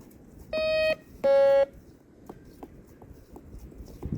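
Two sustained electronic tones from a DR.ÖTEK MT-XR metal detector during outdoor detecting, each lasting about half a second with a short gap between, followed by faint scattered knocks and clicks.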